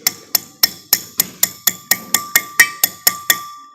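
Wheel bearing dust seal being tapped into place with a hammer: thirteen sharp, evenly spaced metallic taps in quick rhythm, close and clear, each with a short ringing decay.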